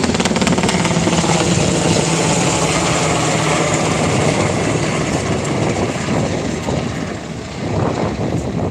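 Loud, continuous rotor and engine roar of an LA County firefighting helicopter passing overhead at a wildfire, steady throughout with a broad rumbling drone and no voices.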